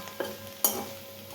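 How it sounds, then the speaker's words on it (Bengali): Two quick scrapes of a spatula against a pan over a faint, steady sizzle of frying food. "এটা এখনও নাড়তে হবে নেড়ে নেড়ে আরও এটা ভাজা ভাজা করতে হবে"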